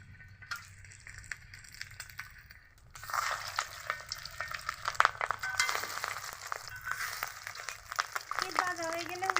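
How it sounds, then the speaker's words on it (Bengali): Fish roe balls for a kofta curry fry in hot oil with a steady crackling sizzle that grows louder after the first few seconds, along with occasional stirring and utensil sounds. "এভাবে সবগুলো বলকে আমি এভাবে করে ভেজে নিব।"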